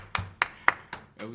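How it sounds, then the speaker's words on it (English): Four sharp hand claps at a steady, slightly uneven pace during a live podcast, loud and close, followed by the start of a voice. "Give us some hand claps for that"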